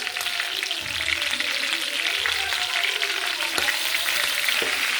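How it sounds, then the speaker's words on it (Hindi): Chicken frying in a pan with garlic and ginger being added for a biryani, giving a steady, close sizzle with small stirring clicks throughout and no talking. "चिकन मैंने बहुत अच्छी तरह से फ्राई कर लिया है। अब इसी में मैंने लहसुन अदरक डालना है"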